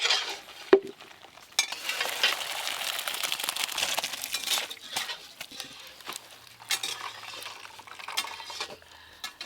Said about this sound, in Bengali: আদা রসুন পেঁয়াজের সঙ্গে চিকেন একটু ভাজা ভাজা হয়ে গেছে